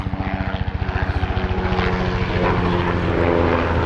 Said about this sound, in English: Got some helicopters going over the Grand Canyon.